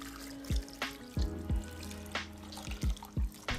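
Liquid pours and splashes in short intermittent bursts, with drips and trickles between them and no voices.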